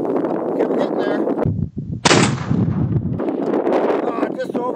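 An SKS rifle fires at a target 390 yards away in strong wind: one loud, sharp shot with a long booming tail, framed by steady roaring wind noise on the microphone.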